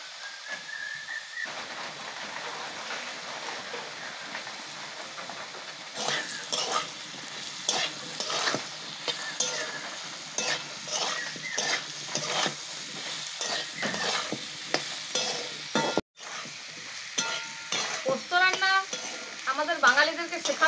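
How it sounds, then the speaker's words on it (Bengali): Potatoes frying in oil in a pan for a village-style tengra fish recipe, with a steady sizzle and repeated scraping of a spatula stirring against the metal, close and continuous. "দেখুন আলুটা খুব সুন্দরভাবে ভাজা হয়ে গেছে।"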